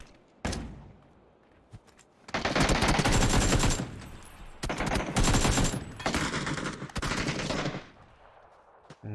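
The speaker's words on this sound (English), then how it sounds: "As they trade some bullets back and forth, no connections happening yet." Exchange of gunfire in PUBG, with rapid automatic bursts and single shots clustered in several loud volleys after a quieter opening with a lone shot.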